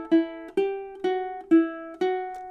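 Ukulele melody picked with alternate picking, about ten plucked notes in an even rhythm, close and bright, each note ringing briefly before the next.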